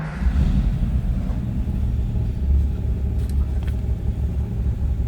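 1946 Lincoln Continental convertible engine runs after a push-button start, a steady deep close rumble throughout with a slight rise at the very beginning.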